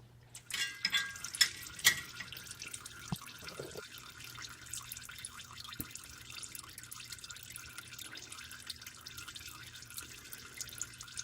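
Engine oil drains from a 2008-2010 VW Routan with a 4.0 litre engine into a tub, making a quiet trickle with faint drips, a little stronger at first and then settling into a low, steady patter.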